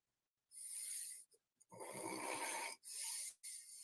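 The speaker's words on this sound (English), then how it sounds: "He's snoring." A man snores in his sleep, with a few breathy, rasping snores in quick succession, close and clear, with no talking.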